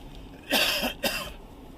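A single close cough in two quick bursts, with faint room noise before and after.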